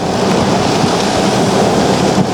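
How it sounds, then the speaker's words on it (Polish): Downburst winds from a severe supercell storm drive waves of heavy rain, a dense, continuous roar of rain and wind buffeting the microphone, loud and steady throughout. "Ale fale deszczu!"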